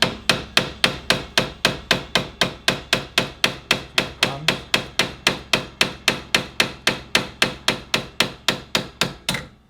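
A washered nut on the axle of a 2000 Yamaha G16 gas golf cart is tapped with a hammer, about thirty sharp metallic knocks in a fast, steady rhythm, close and loud with no talking.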